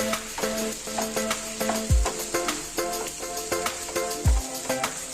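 Okra thoran being stirred in a frying pan with grated coconut paste: a steady sizzle under repeated scraping strokes of a spoon, with two heavier clunks against the pan.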